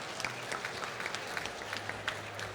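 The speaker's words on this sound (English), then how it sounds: "And I think she deserves a big round of applause." An audience applauds someone speaker at a talk on accessible built environments in India, with steady, moderately loud clapping and a few sharper individual claps standing out.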